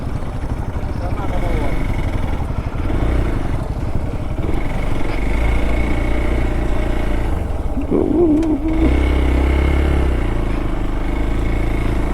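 A Hero XPulse motorcycle with a worn rear tyre rides on the sand of Chirala beach, its engine humming steadily and close throughout, while people talk over it.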